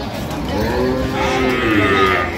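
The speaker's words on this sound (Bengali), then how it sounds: "সুন্দর গাভী বাছুর আমরা দেখছিলাম" A Sahiwal breed cow and calf on a farm in Comilla give a loud, drawn-out moo close by, one long lowing call that wavers in pitch.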